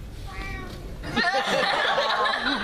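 A person imitates a cat, drawing out wavering, whiny meows after a brief quieter sound, close and fairly loud.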